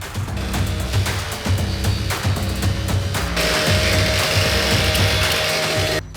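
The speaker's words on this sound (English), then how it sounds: "this rip blade, it will literally rip through anything. Pallets, nails, flat roofs, bitumen, felt backing." Marcrist VC750 rip cut chainsaw-replacement blade sawing through a wooden pallet, a loud continuous rasping whine with rhythmic low chugging strokes, the pitch shifting and brightening partway before stopping near the end.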